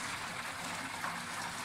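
Water gushes steadily into a fish tank being filled for a red wolf cichlid, a continuous moderate rushing and splashing without pause or voices.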